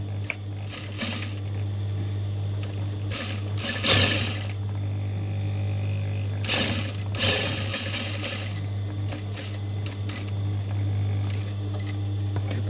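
Sewing machine stitching a homemade fabric body bag, rapid mechanical rattling in several short bursts of a second or two each, set over a constant low motor hum.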